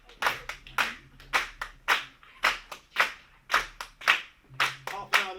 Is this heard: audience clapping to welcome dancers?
yes